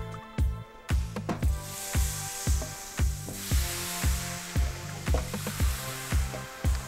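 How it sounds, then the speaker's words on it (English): Shrimp tempura frying in hot oil gives a steady, close sizzle with recurring soft bursts and crackles that rise and fall in an uneven rhythm, without talk. "Now we're ready to fry it."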